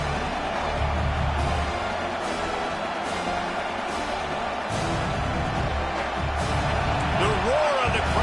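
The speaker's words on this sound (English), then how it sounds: "The roar of the crowd trying to fuel this defense to keep them pinned in their own end" Roaring football stadium crowd during a third-down defensive stand, a steady dense wash of cheering under a commentator's voice, with a few short swells.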